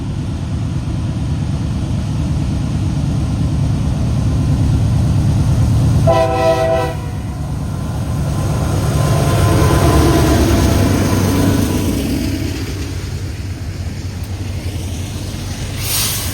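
A freight train passes with several locomotives, a road slug as the third unit, under a continuous heavy rumble of engines and rolling cars, with one short horn blast near the middle.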